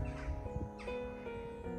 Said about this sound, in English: We've got loads of crows up here roosting.